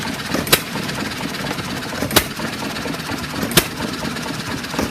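A 1937 John Deere 1-1/2 hp hit-and-miss engine running nearby, with sharp periodic firing bangs spaced about one and a half seconds apart over a steady mechanical rumble.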